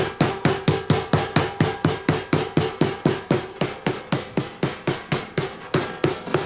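A meat-tenderizing hammer pounds a steak in a steady rapid rhythm, about three or four loud sharp blows per second repeating evenly, close up and alone.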